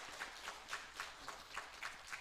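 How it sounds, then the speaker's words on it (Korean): A church congregation claps in blessing for a standing engaged couple, a faint, distant round of rhythmic, evenly spaced clapping at a steady beat with no voices over it. "우리 축복의 박수를 좀 보내도록 하겠습니다."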